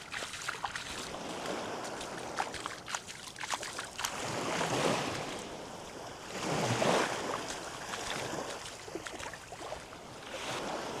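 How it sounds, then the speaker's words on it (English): Waves wash repeatedly onto a shingly beach at Deep Bay, Antigua, surging in broad swells with wind noise, at a steady moderate level and with no talking. "It's another lovely beach on Antigua."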